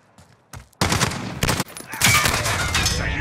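Gunfire in a team deathmatch video game: bursts of rapid shots start after a brief lull, then a sustained loud barrage of overlapping rounds runs to the end, with no talk.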